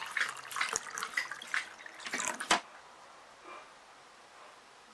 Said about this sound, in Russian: Наливаю воду.